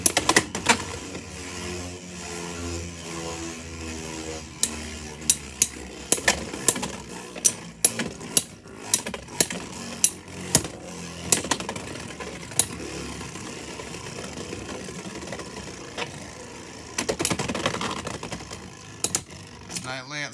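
Beyblade X tops Knightlance 385 High Needle and Knightmail 480 Bound Spike spin and clash in a plastic stadium, giving a steady whirring buzz punctuated by sharp repeated impact clicks, with a voice talking at times.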